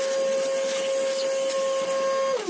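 A vacuum cleaner sucks coffee grounds out of a Feima grinder, giving a loud, close, steady airy roar with a high whine that wavers and drops at the end.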